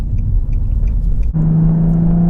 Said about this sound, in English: I'm going to see if I could pull on over here, let this traffic pass by.